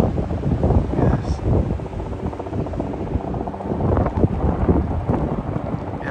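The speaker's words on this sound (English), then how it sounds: "Yeah, she's windy." Strong wind on a bluff's edge buffets the microphone in loud, gusty rumbles that continue without a break.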